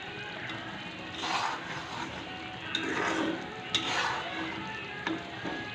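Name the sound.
yogurt potol curry simmering slowly in a pan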